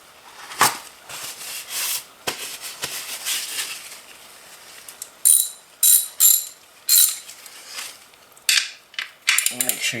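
Ratchet clicking in quick repeated bursts while a Kawasaki ZX10R motorcycle's oil drain plug is snugged down during an oil change, close and crisp with short pauses between strokes.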